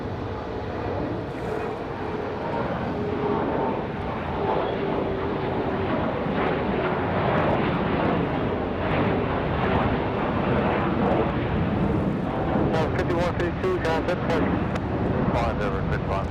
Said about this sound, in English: Nice departure here for the Delta CRJ.